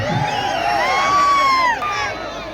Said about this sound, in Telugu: అది ఆ మాత్రం అరుపు కేకలు ఉండాలి.